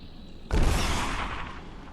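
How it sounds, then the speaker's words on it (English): A flashbang grenade goes off in Fallout: New Vegas, a sudden loud blast halfway through that decays into a long noisy ring. "Flashbang!"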